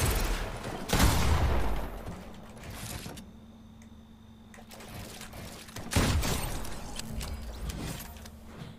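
Rapid bursts of video game gunfire in a Vortexia Classic match, loud volleys near the start and again around six seconds with a quieter mechanical stretch between.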